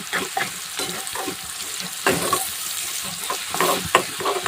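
Onions frying in a pan in an Indian home kitchen, stirred steadily: a continuous sizzle broken by repeated scraping strokes of the spoon, close and moderately loud, with no talking.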